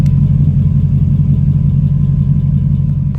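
A Lexus LS400's engine idles close by, a steady low rumble with a slightly uneven, exhaust-leak-like puff running throughout, with no talking.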